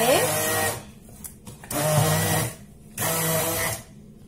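A blender whirs in three loud sustained bursts mixing two-ingredient ice cream, with short pauses between runs, close by and steady.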